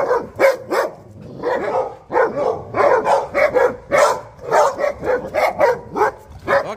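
Several dogs bark repeatedly in a quick, irregular burst during an outdoor training session, loud and close, with yips and whimpers mixed in and no talk over them.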